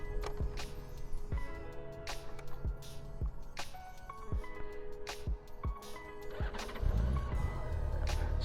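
A Honda Goldwing GL1800 motorcycle engine cranks with a series of sharp clicks and bursts, then catches and settles into a steady idle near the end, close by and without talk.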